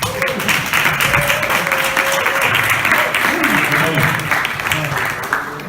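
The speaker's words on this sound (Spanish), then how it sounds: "Aplaudirle." A literary round-table audience at a book fair in La Alberca claps steadily and fairly loudly, the clapping sustained throughout with some voices and a low tonal sound mixed underneath.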